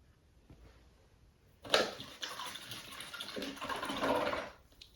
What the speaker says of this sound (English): I rinse my brush out.